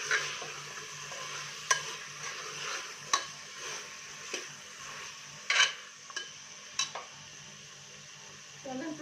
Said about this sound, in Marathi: चणे मसाल्यात घालून घ्यायचे. चांगलं हलवून घ्यायचं.